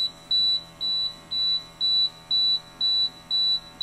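A GMI Gasurveyor 541 gas detector, exposed to methane during a bump test, goes into alarm with a loud, evenly spaced series of high electronic beeps, about eight in four seconds, heard close and alone.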